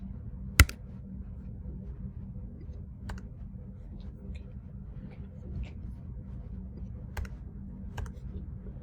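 Sparse keystrokes on a computer keyboard: one sharp, louder key click near the start, then a handful of faint, scattered taps over a low background hum.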